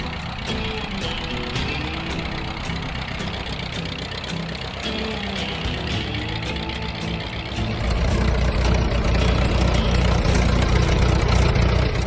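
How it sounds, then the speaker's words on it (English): An Allis-Chalmers RC tractor engine runs loud and close with a steady, thumping idle rhythm, then rises to a heavier, fuller rumble partway through, with no voices. "a tractor that defined an era, the Allis-Chalmers RC"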